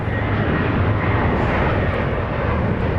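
Airplane taking off at Dallas Love Field airport at night, a loud, steady engine roar with deep low rumble that holds constant throughout, no voices over it.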